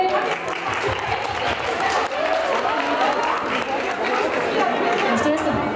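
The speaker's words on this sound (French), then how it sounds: "Applaudissements s'il vous plaît." Enthusiastic clapping from an indoor audience at a YouTuber meetup at the Toulouse fair, loud and continuous, mixed with crowd chatter and cheering throughout.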